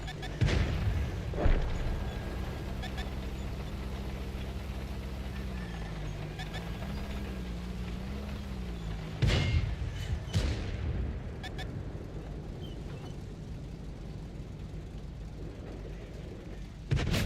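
Tank cannon fire in an online tank battle game with the Red Tiger heavy tank, a few heavy booms amid a droning engine rumble, with someone talking across it.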